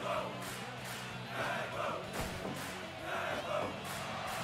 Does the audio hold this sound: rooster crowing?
no